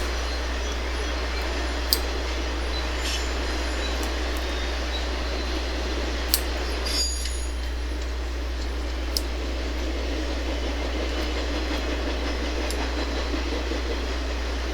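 A steady low rumble with a constant hum and occasional metallic clicks and squeaks as a westbound Conrail freight train rolls past near a road crossing at a moderate distance.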